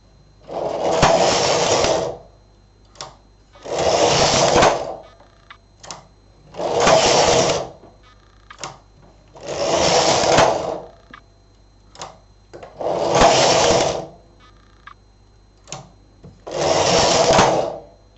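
SK 280 knitting machine knitting child-size tights with feet: six loud carriage passes, each a broad whooshing clatter about a second and a half long, separated by brief quieter clicks of needles being set.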